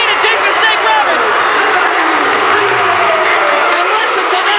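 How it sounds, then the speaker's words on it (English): A crowd at a 1987 pro wrestling event in the Tulsa Convention Center cheers after a match, a dense continuous roar filling the arena, loud and sustained with an announcer talking over it. "And listen to this crowd."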